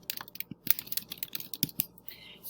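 Soft, irregular computer keyboard typing while entering a note in a software dashboard, a quick run of light clicks and taps close by with no talk.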